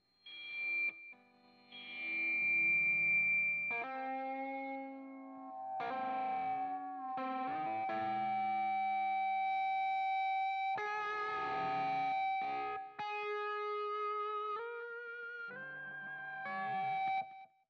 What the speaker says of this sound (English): Let's listen to what it sounds like through the amp.